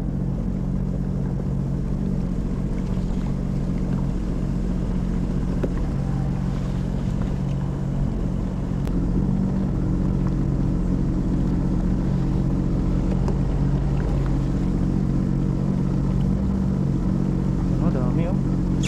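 A Sea-Doo jet ski engine drones steadily and loudly throughout while fishing at sea, a constant low motor hum with wind buffeting the microphone and no talking.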